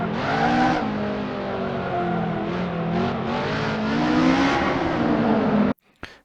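A 3-litre Ford Cosworth DFV V8 in a 1960s Formula 1 race car within a racing video game, a loud, sustained high-revving engine howl with small pitch shifts between gears, cutting off abruptly near the end.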